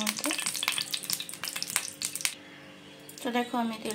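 Prawn fritters (bora) frying in white oil crackle and sizzle loudly up close with irregular spattering pops, then the frying drops away as a voice speaks at the end.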